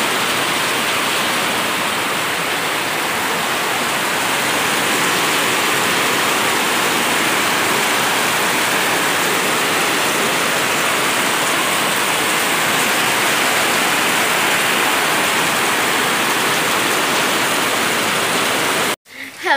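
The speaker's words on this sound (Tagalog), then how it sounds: "Patigilin ko muna ang ulan. O meron pa rin tulo-tulo." Steady heavy rain pours for nearly twenty seconds, a dense even hiss with constant dripping, then cuts off abruptly at the end.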